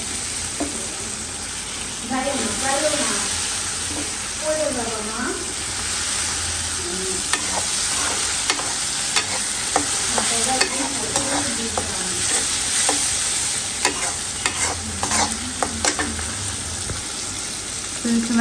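Shrimp and green chilies frying in a pan, a continuous loud sizzle with repeated stirring scrapes and clinks running through it, close up, with faint speech in places.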